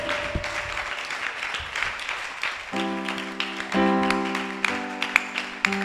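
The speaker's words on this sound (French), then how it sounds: "Clap for him as for the King." Congregation clapping along in rhythm during a church worship service, steady close applause with sustained organ or keyboard chords swelling beneath it.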